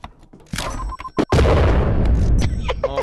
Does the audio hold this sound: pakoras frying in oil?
no